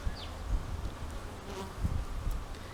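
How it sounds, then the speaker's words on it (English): Honeybees buzz around a hive, swarming through the flight path close by, a shifting insect drone with individual bees passing near and away, no talking. "I've got bees stinging me in the forehead"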